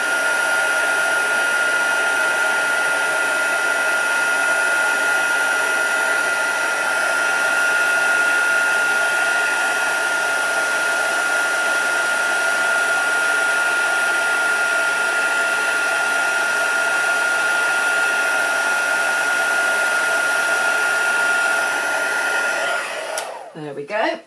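Heat gun blowing for heat embossing on a craft gift pouch, a loud steady hairdryer-like roar held for over twenty seconds before cutting off abruptly at the end.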